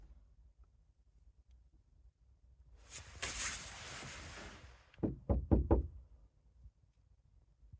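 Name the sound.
knock on camper van door at night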